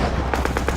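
Sharp gunshots from a sniper duel between Russian and German snipers in a war film, four evenly spaced loud cracks over a steady background rumble.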